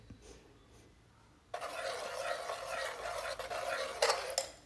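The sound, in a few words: stirring ground coconut paste into a yam and plantain curry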